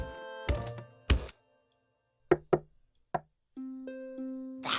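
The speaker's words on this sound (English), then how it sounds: "wasn't the secret knock." Knocking on a door in the Dragon Tales cartoon, several sharp raps in small groups with pauses between them, mixed with other cartoon sound effects and tones.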